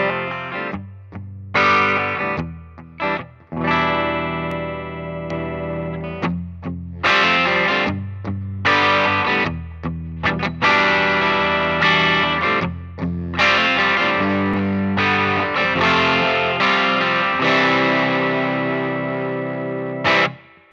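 Electric guitar with humbucker pickups is played clean through a Timmy V3 transparent gain pedal, giving a string of strummed chords and ringing notes with brief gaps between phrases, loud and close.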